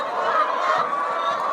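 Poultry clucking in a laying flock, a continuous close chorus of overlapping bird calls with no talking.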